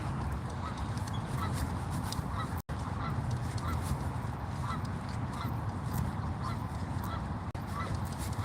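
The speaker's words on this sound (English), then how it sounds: "I don't mind the geese" Geese honking at a lakeside spot while trout fishing, a busy flock giving repeated overlapping honks at moderate distance over a continuous outdoor background, with one brief dropout.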